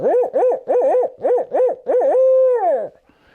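A human voice imitates an owl, with a hooting-contest champion delivering a rhythmic series of about eight bouncing hoots that ends in a long drawn-out call, loud and close with no talk.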